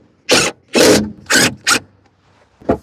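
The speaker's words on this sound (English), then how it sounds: "Let's put a couple screws in." A power driver sets screws during a home heating and air conditioning system installation, in four loud whirring bursts of about half a second each, then a shorter fifth burst, close up with quiet gaps between.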